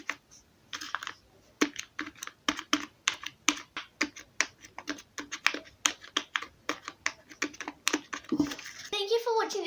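Fingers pressing the bubbles of a handmade origami paper pop-it fidget toy, a close, quiet, rapid series of crisp papery pops and taps in an uneven rhythm, with a brief voice at the end.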